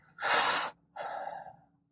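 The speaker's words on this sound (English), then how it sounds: "So nice deep breath in." As part of a deep breathing exercise before a cold shower, one loud, close, sharp inhale is drawn in, followed after a short pause by a softer, longer exhale. No talking.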